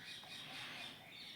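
Birds squawking as they are fed, a dense, continuous chorus of calls at a faint, distant level with no pauses.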